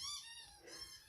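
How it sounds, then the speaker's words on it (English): A dog just woken up gives a brief, faint, whiny squeaking whimper with breathy wheezing, a single short vocal sound close by. "Dog's woken up. Oh dear, listen to him."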